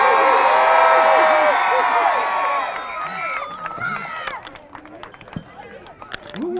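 Crowd at a high school football recruit's college announcement screaming and cheering loudly, a sustained roar of many voices that fades into scattered shouts and whoops.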